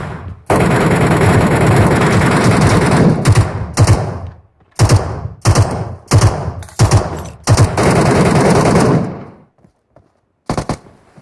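Gunfire in the shooter game MetroRoyale: a long sustained burst of rapid automatic fire, then a series of shorter bursts separated by brief silences, loud and close, ending with a final short volley.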